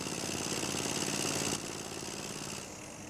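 Engine of a drilling rig boring for water in rural Southern Africa, a steady loud droning run with a broad, rough mechanical roar that drops slightly in level partway through, with no voices.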